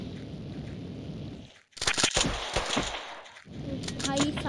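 Magnum and Uzi fire in a video game, a quick burst of sharp, rapid shots after a brief dropout, loud and close over continuous background noise.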